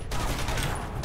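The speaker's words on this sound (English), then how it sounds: "there are people shooting at me" Rapid gunfire in a Batman video game crackles as a dense, loud burst that fills the whole moment.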